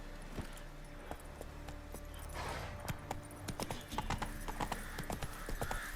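Horse hooves in The Witcher 3 video game clip-clop in a quick, steady trot, crisp and close, over a faint low hum with occasional jingling.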